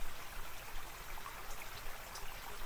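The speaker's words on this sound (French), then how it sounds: "j'ai trouvé le seul ruisseau encore actif du coin" A small stream in Lot-et-Garonne, France, flowing steadily on a hot evening, a faint continuous trickle and babble with no voices.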